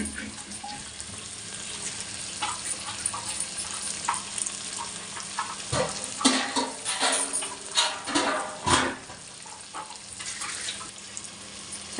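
Groundnut-stuffed brinjal curry cooks in a pan with a steady, soft sizzling hiss, broken by scattered crackles and a few louder clattering stirs in the middle.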